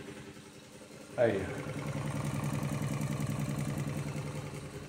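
A homemade free piston engine driving a mechanical water pump starts with a sharp pop and settles into a fast, steady chugging rhythm close by, with a brief spoken word just before it.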